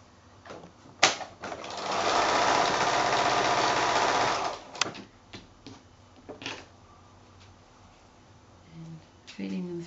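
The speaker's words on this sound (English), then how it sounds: "So back to the sewing machine." A sewing machine stitches quilt block pieces in a short, steady, loud whirring burst of about two seconds, with clicks and handling noises before and after; no one speaks during the stitching.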